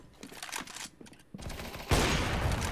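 Rapid gunfire in a shooter video game, with bursts of shots at first, a short lull, then a denser and louder volley that keeps going to the end.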